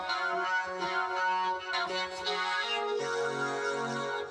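A vocal synth preset playing sustained chord harmonies in a future bass track, rich layered choir-like tones shifting between chords with a soft chorus shimmer, heard alone without talk.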